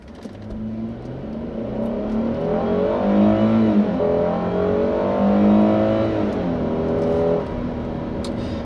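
A 2016 Kia K900 with a V6 engine accelerates in sport mode, the engine note rising steadily and smoothly through the revs with a low, muted hum heard from inside the cabin.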